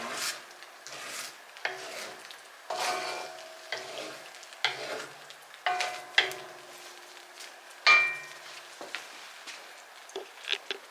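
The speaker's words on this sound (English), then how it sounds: "So I'm going to dump all the vegetables in now, get them cooking." Vegetables stir-fried in a pan with a thick, darkening sauce: repeated scraping stirs and rubbing strokes at an irregular rhythm over a soft, steady sizzle, heard close up without talking.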